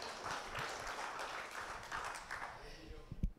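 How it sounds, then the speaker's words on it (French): Audience applause at a talk on horses at Chambord: a dense, fairly faint wash of clapping from a seated crowd that holds steady and then thins out, ending with a few sharp taps. "Allez, une nouvelle bordée d'applaudissements, en avant."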